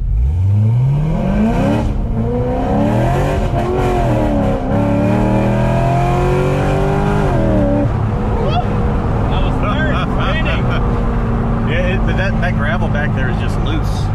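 A Corvette Grand Sport launches and accelerates hard, its engine note climbing steadily through several gear changes, loud and close, with people talking over it inside the car.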